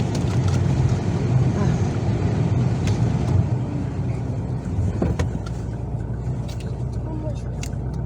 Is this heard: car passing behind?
yes